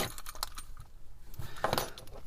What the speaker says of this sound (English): Let me show you my EDC keyring setup. So it just fits in here.